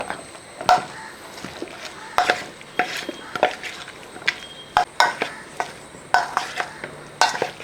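Close-up clinking and scraping of a spoon mixing spiced cauliflower in a bowl, with irregular, repeated taps and stirs and no talking.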